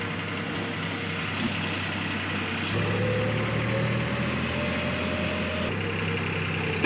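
A steady tractor engine drones and hums continuously nearby, powering a straw-making machine, with a shift in pitch partway through as the machinery keeps running.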